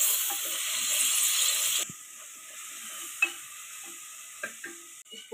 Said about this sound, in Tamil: இப்போ தக்காளி சேர்த்துக்கலாம். தக்காளி மக்கிற வரைக்கும் வதக்கலாம்.